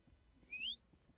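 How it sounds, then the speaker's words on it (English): A short rising whistle inside the Apeirophobia video game, one clear tone sliding upward for about a quarter second, faint over quiet background. "Don't whistle."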